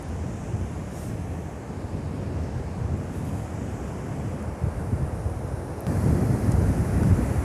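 Waves from the Bay of Bengal roll onto the Odisha shore in a continuous surf roar, with gusts of wind buffeting the microphone. The wash grows louder toward the end.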